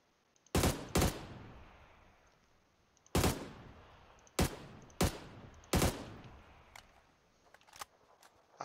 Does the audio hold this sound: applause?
no